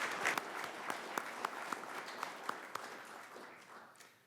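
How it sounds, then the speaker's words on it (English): Guests at a Veterans Day luncheon applaud a speaker, a moderate crowd clapping with distinct individual claps at first, then thinning and fading toward the end. "Another big round of applause for Barry,"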